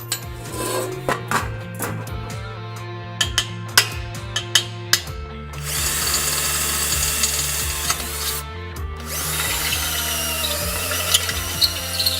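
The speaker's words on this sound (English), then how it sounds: "we're going to use this step drill here till we get to that size" A power drill with a step drill bit whines and bores a hole in metal, with clicks and clatter at first, then a steadier grinding whir that cuts out briefly before resuming.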